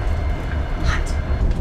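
Steady low rumble of a moving Trans-Siberian Railway train fills the clip, continuous and close, with faint rattling and brief voices over it.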